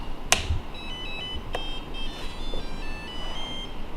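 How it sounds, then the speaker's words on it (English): A few short electronic beeps and tones from a drone radio transmitter powering on, with sharp clicks, in a quiet room. "Ooh, happy beeps."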